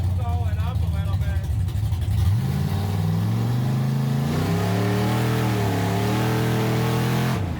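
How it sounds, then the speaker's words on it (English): A 440-powered Studebaker gasser car out on the road, its engine droning loud and close with rising revs as it accelerates through gears, steady and continuous throughout. "So the other day we took the car for a spin."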